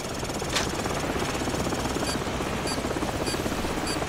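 A helicopter's rotor chops continuously with a throbbing buzz in Call of Duty: Modern Warfare, joined by brief high electronic chirps from game effects.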